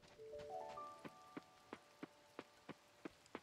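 Rain pattering in the farming game Coral Island, heard as sparse, evenly spaced soft drip-like taps under a few faint sustained game tones, fairly quiet with no voices.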